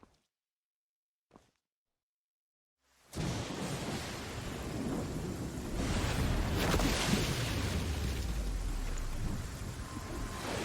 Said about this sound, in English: That's heavy rain.